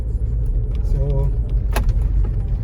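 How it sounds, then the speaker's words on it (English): A car drives along a winter road past snowy surroundings, its engine and road noise a steady low rumble close by, with a person talking over it. "I'll be driving around so that I'll go there"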